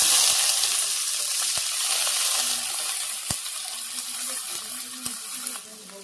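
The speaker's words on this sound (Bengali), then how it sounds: "সবজিটা আমি দিয়ে দিলাম পুরোটা।" Vegetables hit a hot pan and fry with a loud, dense sizzle that slowly eases, with a few sharp clicks of a utensil against the pan scattered through.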